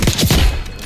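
A sniper rifle shot in the Black Ops 6 video game, one sharp loud crack with a quick following burst, heard close and alone without talk.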